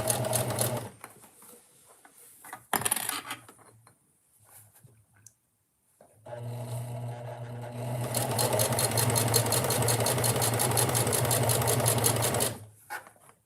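A home sewing machine that has recently had a needle replaced runs close by in short bursts, then in a long continuous whirring run with a steady mechanical drone, stopping abruptly near the end.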